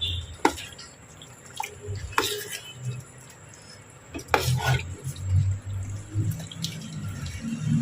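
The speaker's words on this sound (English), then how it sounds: "Now there was a little meat broth into it, so I'm going to stir this properly." A spoon stirring egusi soup with meat broth in a cooking pot, with sporadic scrapes and clinks against the pot, a soft wet churning, and faint background noise.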